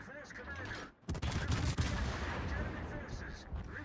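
Warship guns firing in World of Warships, a Hindenburg in an operations battle, with a dense barrage of booming salvos after a brief pause, loud and continuous over rumbling low-end noise.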